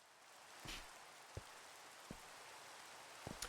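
Rain in Minecraft: a faint, steady hiss of rainfall with a few soft drop-like ticks scattered through it, and no voices.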